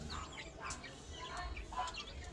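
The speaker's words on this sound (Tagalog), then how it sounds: "favorite ko nga palang manok guys" A pet chicken lets out a few short, soft clucks close by, with faint chirps in a quiet outdoor setting.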